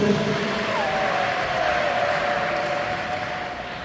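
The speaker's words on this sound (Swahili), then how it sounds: "Pigeni makofi kwa kuweka kitendo hicho." A congregation claps hands during Catholic Mass at St. Augustine parish, Salasala. Dense, steady clapping fills the space, with a sustained tone running through it.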